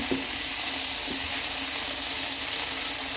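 Chicken in a soy glaze fries in a pan right after being flipped, giving a steady close sizzle with a few light knocks near the start and no voices.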